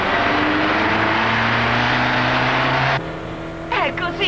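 An Alfa Romeo Giulietta 116 from 1978 overtaking on the road, its engine a loud sustained drone with steady tones that cuts off abruptly partway, followed by a quieter passage with a brief rising whine near the end.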